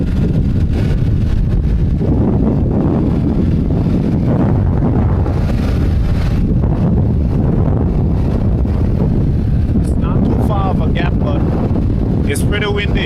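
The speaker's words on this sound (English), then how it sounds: "It's pretty windy." Strong wind roars and buffets steadily against the microphone at a cycling race, with faint voices partly buried beneath the rushing noise.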